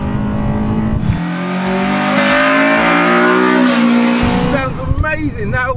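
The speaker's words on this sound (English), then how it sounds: "now that the engine's warm, see if this VTEC's doing everything as it should as well" Honda Type R engine fitted with an aftermarket air intake revs hard and climbs into VTEC, the pitch rising to a loud, sustained scream before falling off, with voices reacting near the end.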